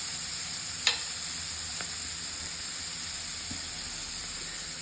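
Ingredients frying in a pan until reddish, a steady close sizzling hiss with a few sharp crackles and pops, no voices over it.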